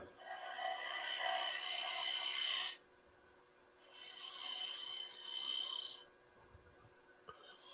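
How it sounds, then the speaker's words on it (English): A half-round scraper cutting wood on a spinning lathe, giving two sustained, close, raspy scraping passes over the lathe's steady hum, with a brief pause between them. "We got our trusty half-round scraper and just kind of"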